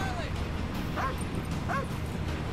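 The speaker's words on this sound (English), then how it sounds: "Ooh, it's a famous dog." A dog in the video game Call of Duty Ghosts gives a few short whimpers and yips, spaced apart over a steady game soundscape.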